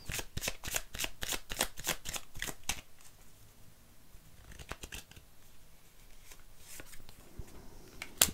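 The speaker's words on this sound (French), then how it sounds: "On va retourner des cartes là où on avait la difficulté." Playing cards riffled and shuffled in quick crisp bursts during a reading, then cards flipped and laid down with softer scattered flicks and taps, close and fairly quiet, no talking.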